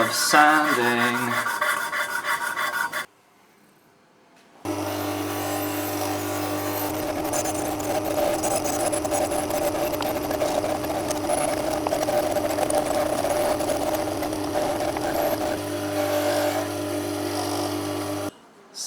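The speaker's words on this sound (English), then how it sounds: "then I'll run it on the polishing wheel" A polishing wheel runs against copper parts for a PC toaster build, a steady whirring grind with a rough, rubbing texture that holds at a constant loud level after a brief pause, without speech.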